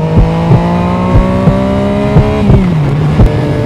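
A Yamaha MT-09 motorcycle accelerates hard on the road in sports mode. The engine note climbs through the gears in close, loud surges, punctuated by sharp gear-change dips.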